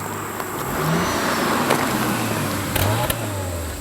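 An Audi RS5 exhaust rumbles steadily at close range, a low engine drone with a few brief swells and pops, heard from inside the moving car with no speech over it.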